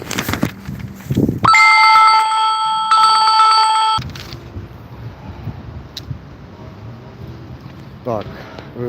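A telephone rings loudly through a live stream about mini tractors, its electronic tone sounding in two bursts with a short gap between them, followed by low background noise and a brief beep near the end.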